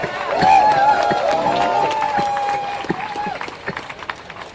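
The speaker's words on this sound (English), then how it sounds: "Give yourselves a round of applause." Crowd at a protest in Madrid cheering and clapping, a loud swell of voices with rising whoops and whistles over scattered applause that gradually thins and fades.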